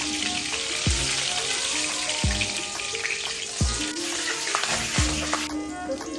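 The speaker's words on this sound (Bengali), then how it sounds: "একটি কড়াই দিয়ে আমি পর্যাপ্ত পরিমাণ তেল দিয়ে দিয়েছি। এখন রসুন কুচি দিয়ে দিচ্ছি।" Chopped garlic fries in plenty of oil in a wok, a loud, close, continuous sizzle punctuated by a few dull knocks from a stirring spatula, with no voices.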